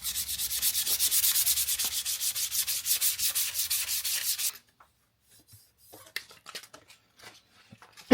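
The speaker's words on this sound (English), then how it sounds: "We give them a bit of a rub down." Harley-Davidson Sportster XL1200 parts being rubbed down by hand over primer filler paint, a loud rhythmic scratchy back-and-forth sanding for several seconds, then quiet with a few faint scuffs.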